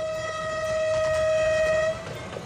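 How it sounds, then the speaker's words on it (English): A train on the way to Machu Picchu in Peru sounds a steady, loud horn tone for about two seconds, then it cuts off and faint background rumble remains. "Choo-choo train."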